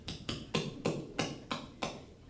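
A mallet strikes a chisel in seven sharp, evenly spaced taps, each a crisp knock that fades quickly, fairly quiet and with no talk over it.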